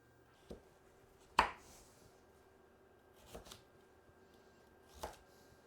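Vegetables are chopped on a cutting board for a Finnish meat stew, with a few isolated knife strikes that are sharp, close and sparse, separated by near silence.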